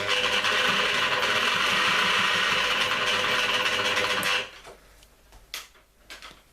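A sewing machine stitches a trouser leg at steady speed with a loud, close mechanical whir for about four seconds, then stops, leaving a few light rattles and handling clicks.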